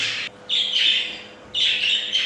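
Pet budgerigars chirp while eating bird food, giving close, bright squawking calls in two clear bursts separated by a brief quiet gap, with no talking.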